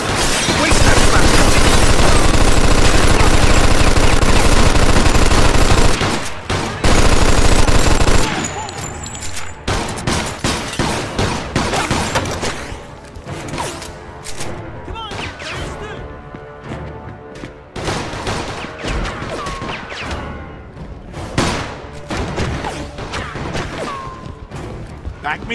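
Heavy gunfire in a Mafia 2 shootout at a building window: a loud, dense barrage for several seconds, then a long run of sharp individual shots and bursts, with voices talking over parts of it.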